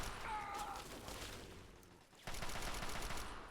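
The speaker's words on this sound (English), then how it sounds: "they're all using shotguns" Enemies blast away with shotguns in a Fallout 3 library battle, a dense run of booming reports overlapping into a near-continuous barrage that dips briefly before resuming loud and close.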